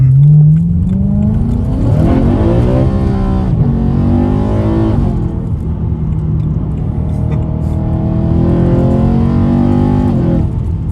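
A BMW E92 M3 engine revs hard and loud, the V8 note climbing and falling through repeated sweeps over eleven seconds, close up, with no voices over it.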